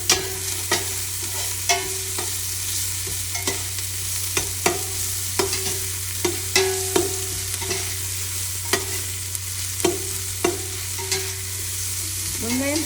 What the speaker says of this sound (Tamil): உப்பு சேர்த்தா வெங்காயம் குயிக்கண்டு வதங்கிடும்.